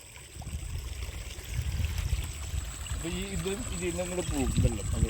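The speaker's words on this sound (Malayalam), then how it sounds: "ഇത് പുഴയിൽ നിന്ന് അടിക്കുന്ന വെള്ളമാണ് പുഴ പുഴ പുഴയിൽ നിന്ന് പൈപ്പ് വെച്ചിട്ട് അടിക്കുന്ന വെള്ളം" River water pumped through a pipe gushes and splashes steadily, building louder partway through, while people talk over it.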